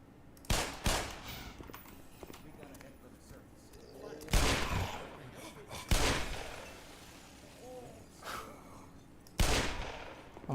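Magnum revolver fire in the video game Black Mesa: four loud, sharp shots spaced several seconds apart, each with a short ringing tail over quiet game ambience.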